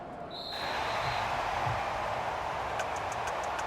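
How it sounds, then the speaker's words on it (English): Home crowd applauding in a football video game after a close win over the Cowboys, a broad, steady wash of clapping and cheering that swells in early and holds loud and even to the end. "And the home crowd applauding."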